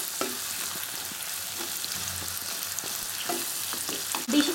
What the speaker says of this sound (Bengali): বড় বড় টুকরো করে কেটে রাখা ক্যাপসিকাম আর পেঁয়াজগুলো। সবগুলো একটু ভালো করে মিডিয়াম হিটে নাড়াচাড়া করে নিচ্ছি।